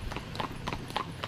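A horse pulling a buggy along a road gives a quick, steady run of hollow clip-clop hoofbeats, moderately faint and continuous over a low background hum.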